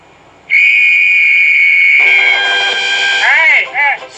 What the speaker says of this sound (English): I just heard the loudest whistle I've ever heard